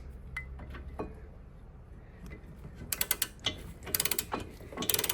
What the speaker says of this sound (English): our ratchet